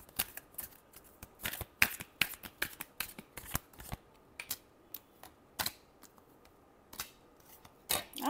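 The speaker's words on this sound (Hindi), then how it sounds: "Last shuffle." A deck of cards is shuffled repeatedly, giving quick crisp riffling bursts in an irregular rhythm, close and fairly quiet with no talking.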